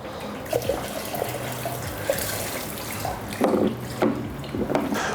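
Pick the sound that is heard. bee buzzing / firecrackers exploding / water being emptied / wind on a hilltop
water being emptied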